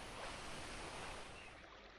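Flowing water in a modded Minecraft 1.16.5 world gives a steady, broad rushing wash that stays even throughout, with no voices over it.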